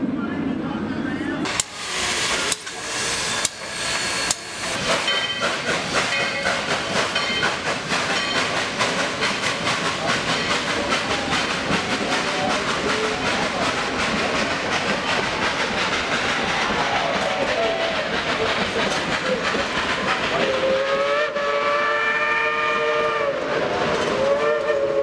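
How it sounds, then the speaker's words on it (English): A coal-fired steam train at Dollywood chugs along loudly with rhythmic puffing and clatter, then its whistle sounds in long, clear blasts near the end. "There's this coal-fired steam train"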